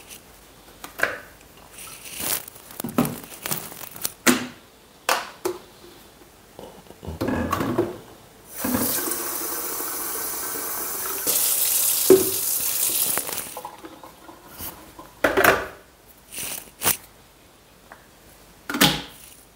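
Tap water runs in a home kitchen to fill a kettle for coffee, a hissing stream lasting several seconds mid-clip, framed by clinks, knocks and handling of kitchenware before and after.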